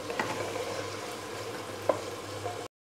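Mutton with garlic-ginger paste and yogurt sautéing in a pan makes a soft, steady sizzle with faint stirring scrapes and one small clink, ending abruptly.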